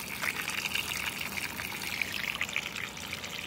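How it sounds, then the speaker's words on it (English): Water draining out of a container, a steady trickling, gurgling flow that stays moderately quiet and unbroken from start to finish. "let's drain some of the water out of this if I can"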